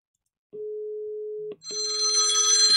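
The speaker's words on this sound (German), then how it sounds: "Und jetzt mache ich einfach einen Anruf vom Phoner Lite aufs Handy." Ringback tone of a telephone call placed from the Phoner Lite softphone to a mobile phone over an encrypted TLS link, two steady one-second tones with a short gap, the second joined by a bright buzzing ring layer.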